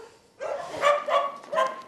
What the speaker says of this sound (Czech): Tento pejsek je hladkosrstý, je to kříženec Stafforda, jmenuje se Argo a je mu asi 6 roků.